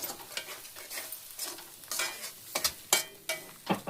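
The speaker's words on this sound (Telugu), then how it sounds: "ఇది బాగా కొంచెం ఫ్రై అవ్వాలి" Food fries in a pan with a quiet, crackling sizzle. Irregular scraping stir strokes grow sharper and more frequent toward the end.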